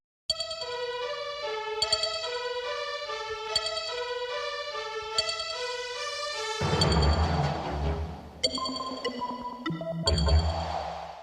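A TV medical drama theme: chiming electronic tones step through a repeating melodic pattern, then a darker, fuller orchestral swell enters with bell-like pings ringing over it.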